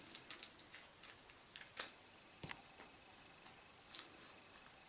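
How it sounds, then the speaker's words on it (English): Scissors snipping a paper cake liner, a series of quick, crisp, close cuts spaced irregularly, with no talking. "And then we'll cut that down the middle."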